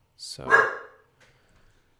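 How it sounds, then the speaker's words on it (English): A single short dog bark, close and fairly loud, followed by a faint trailing whine, with a brief spoken word just before it in an otherwise quiet room. "that's my dog. Sorry about the noise."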